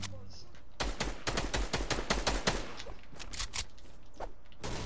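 Rapid bursts of automatic gunfire crackle in a video game, a dense run of sharp shots followed by a few scattered single reports, fairly quiet overall.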